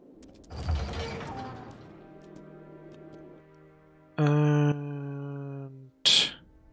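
A heavy door mechanism in the fantasy role-playing game Pillars of Eternity grinds open, with creaking and geared ratcheting, a sustained mechanical drone, then a loud clunk and a sharp final burst.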